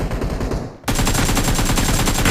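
Automatic gunfire from a weapon in PUBG Mobile, a loud, rapid, continuous burst of shots following a brief quieter stretch of firing, close and dense with no talk.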